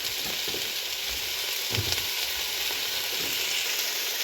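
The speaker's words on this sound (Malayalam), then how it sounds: "പൊട്ടറ്റോയും മുരിങ്ങയ്ക്കായും പിന്നെ നമ്മുടെ വെണ്ടയ്ക്കായും എല്ലാം കൂടെ ഒന്നിച്ചിട്ട് കൊടുത്ത് ഈ എണ്ണയിൽ നല്ലതായിട്ടൊന്ന് വഴറ്റണം" Potato, drumstick and okra sauté in oil for a Kerala-style theeyal, a dense, steady sizzle close by with faint soft thumps of stirring and no speech.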